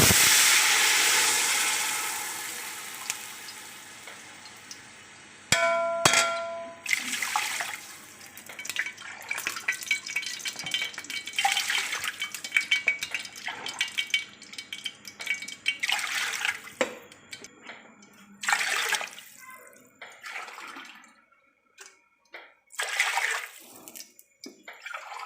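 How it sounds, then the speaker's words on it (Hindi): Water poured from a container into a cooking pot of rice seasoned with salt and chicken powder, a steady splashing stream at first, then broken into intermittent gurgles, drips and sloshes, fairly close. "पानी डालने लगी हूँ।"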